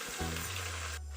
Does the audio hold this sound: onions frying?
yes